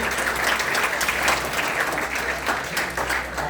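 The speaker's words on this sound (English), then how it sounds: "A big round of applause for our special guest." A big round of applause from an audience greeting a special guest at a formal talk or event, steady dense clapping filling the whole stretch at even strength.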